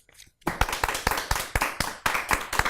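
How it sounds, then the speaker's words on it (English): A small group clapping close by, steady uneven hand claps starting abruptly after a brief quiet moment and continuing throughout. "Let's hear a round of applause for Ruben."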